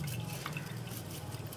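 Water is drained off soaked rice while making chicken biryani, a quiet trickle and drip of liquid that runs briefly and faintly.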